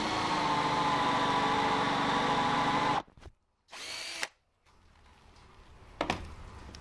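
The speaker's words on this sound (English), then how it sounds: "I was able to go the depth of the Forstner bit itself" A power drill driving a Forstner bit into wood while building a closet rod and shelf, a loud sustained whine for several seconds that cuts off, followed by a short second burst and quieter handling knocks.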